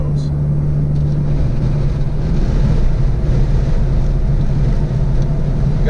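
Wind roars inside a Toyota Tacoma pickup driving with both rear windows down, a loud, steady rushing buffet with a low droning hum underneath that continues throughout.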